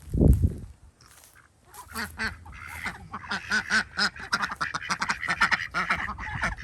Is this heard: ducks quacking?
yes